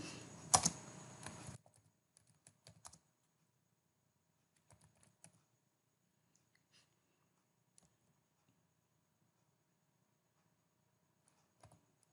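A computer keyboard typed on while entering a script for a Laravel project: a short burst of quick keystrokes at the start, then sparse, faint clicks and taps in a quiet room.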